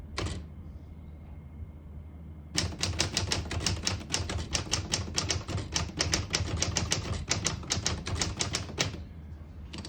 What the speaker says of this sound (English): So I'm gonna backspace and hit that K again.